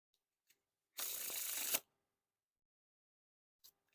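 A deck of Orbit Cardistry-Con Second Edition playing cards is fanned in one quick, crisp riffling burst lasting under a second, close and clear, with small taps before and after in a quiet room.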